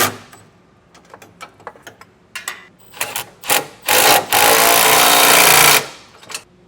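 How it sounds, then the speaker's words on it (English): Hitch bolts on a 2021 Chevrolet Silverado are tightened with a 19mm socket and wrench: scattered sharp metallic ratchet clicks and scrapes build into longer, louder grinding bursts near the end, close up with no talking. "I'll tighten this all down with a 19mm socket and wrench."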